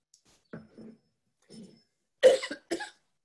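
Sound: cough and throat clearing

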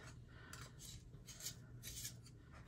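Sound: sharpening a Polychromos burnt ochre colored pencil

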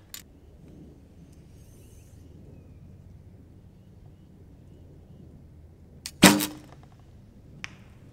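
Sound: bow shooting an arrow at a target

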